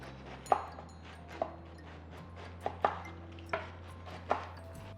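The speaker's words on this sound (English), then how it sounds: "Okay, now that we have cut our pepper and our cabbage, let's just put them aside" A knife chops cabbage and pepper on a cutting board, sparse single thuds about once a second, close and distinct over a low steady background hum.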